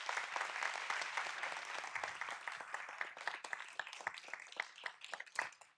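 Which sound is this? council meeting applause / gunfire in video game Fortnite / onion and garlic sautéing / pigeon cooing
council meeting applause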